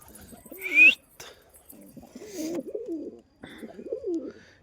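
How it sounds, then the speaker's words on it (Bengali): Domestic pigeons in a loft make soft, rolling coos in several repeated phrases, close and clear, with a brief sharp chirp near the start and no talking. "এ হচ্ছে কবুতর"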